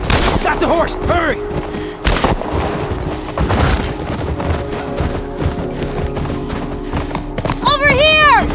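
In The Last of Us Part II Remastered, rapid hoofbeats pound beneath chaotic shouting voices, with gunshot-like cracks and a horse's whinny breaking through near the end.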